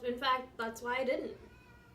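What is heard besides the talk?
cat meowing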